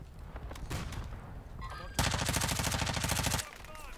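Submachine gun fire in Warzone 2.0 rattles out in a rapid, loud burst of evenly spaced shots near the end, after earlier scattered single shots and game noise, with a voice talking faintly in places.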